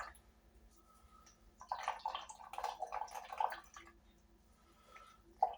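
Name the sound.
water dripping from twisted grated potato for rosti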